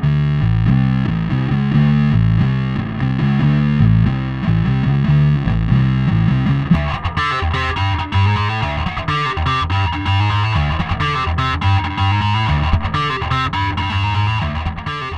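Bass guitar played through an Electro-Harmonix Deluxe Bass Big Muff Pi fuzz pedal, thick distorted sustained notes at first, then a choppier riff with sharper plucked attacks, loud and alone without talk.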